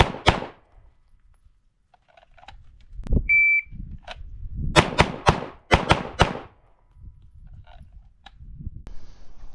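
Gunshots from a Glock 34 pistol fitted with a KKM compensator crack sharply, one alone at the start, then a fast string of about six shots, with a beep from a shot timer between them.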